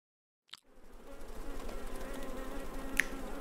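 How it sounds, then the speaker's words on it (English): Buzzing insects in a children's alphabet app game, a steady close hum starting after a short click and carrying on without pause, with a brief sharp ping near the end. "Bugs."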